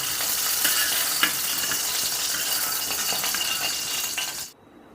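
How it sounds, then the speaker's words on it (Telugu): About ten washed green chillies fry in a tablespoon of oil in a kadai, a loud, close, continuous sizzle with a few small clinks that stops abruptly near the end. "ఇదే కళాయిలో ఒక టేబుల్ స్పూన్ ఆయిల్ వేసుకుందాం ఇప్పుడు శుభ్రంగా కడిగి పెట్టుకున్న ఒక పది పచ్చిమిర్చిని వేపుకుందాం"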